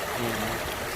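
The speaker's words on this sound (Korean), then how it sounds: "파도 소리보단 더 시원한 용천수 그러는 소리 들리시죠?" Spring water rushes out at the rocky seashore of Jeju in a steady, close, broadband flow of running water. It sounds like an unbroken gush with no voices.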